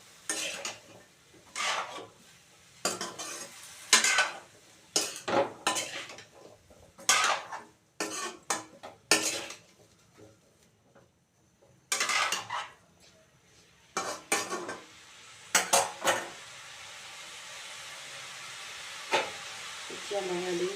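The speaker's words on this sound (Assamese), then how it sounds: "এতিয়া আকৌ এবাৰ ভালদৰে লৰাই ব্ৰকলিখিনি কম জুইত ভাজি দিম।" Broccoli being stirred and fried in a pan over a low flame: bursts of spatula scraping and metal clinks against the pan, followed by a steady, soft sizzle.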